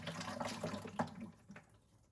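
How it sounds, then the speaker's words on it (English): Water drains out of a freshly cut CPVC pipe on a sink water inlet, a faint, steady trickle and splash close by that tapers off over a couple of seconds. "Wait for the water leak out."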